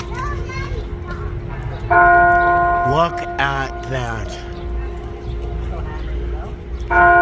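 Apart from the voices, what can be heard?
monkeys hitting a bell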